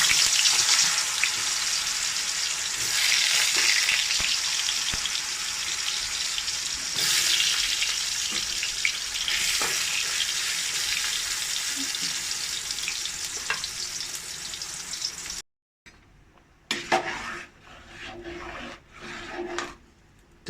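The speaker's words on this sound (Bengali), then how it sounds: "এবার কাঁচকলাগুলো ভেজে নিচ্ছি।" Green plantains sizzle and crackle steadily in a hot pan of oil, a dense near frying hiss that carries on for about fifteen seconds, then drops to quieter sputters with a few light scrapes.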